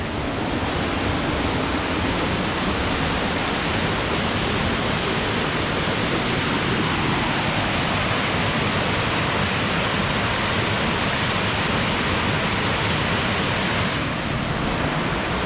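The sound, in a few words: waterfall at Shoe Creek Falls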